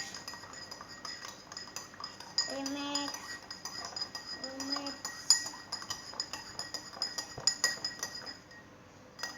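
A spoon clinks against a glass as tea is stirred, giving a few bright, ringing taps early on and then a run of quicker, lighter clinks, close and clear over faint room noise.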